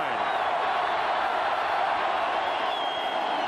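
A stadium crowd roars at a 1993 college football game between Miami and Florida State, a sustained loud wall of cheering that holds steady throughout.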